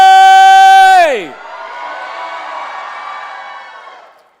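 A long sustained horn-like tone drops away, followed by a crowd cheering and whooping at a high school commencement ceremony, the cheer rising and then fading.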